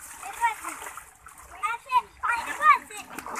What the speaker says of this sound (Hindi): तुम हल्का सा डुबकी हल्की सी लगा के दिखाओ